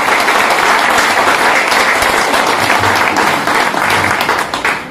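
Sustained, loud applause from a large seminar audience, thick and even clapping that carries on throughout before thinning slightly at the close.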